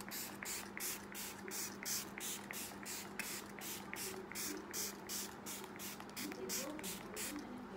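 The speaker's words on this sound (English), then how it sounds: "I'm just going to spray my face and set it all in with the setting spray" A setting spray is misted onto the face during a makeup routine with Maybelline Superstay 24H Full Coverage Foundation, giving about twenty quick, crisp hissing spritzes in a steady rhythm, close and fairly loud.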